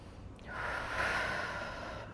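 A single long, breathy exhale during a home glute workout, rising to a steady airy rush and fading out, close to the microphone with no talking.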